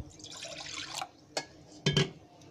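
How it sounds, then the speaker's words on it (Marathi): Water poured onto jowar flour in a container, a short splashing pour followed by a few distinct drips and splashes, close and quiet. "याच्यामध्ये अजून आहे ना थोडं पाणी ओतायचं"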